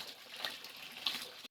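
Water runs steadily from an open pipe left flowing outdoors in a hill town, a continuous close splash and gush with no talk over it.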